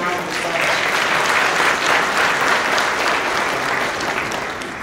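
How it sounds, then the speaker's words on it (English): Event audience applauding at a real estate industry gathering, a full, sustained round of clapping from a large room that swells slightly and then holds steady, with faint voices mixed in. "let's give a round of applause."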